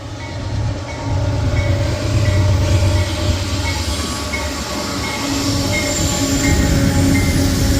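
A heavy freight train loaded with coal rumbles steadily past nearby on the C&O, with a deep continuous roar, rattling cars and occasional high metallic wheel squeals.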